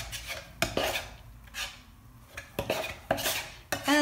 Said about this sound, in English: I'm going to take it out of there with putty knife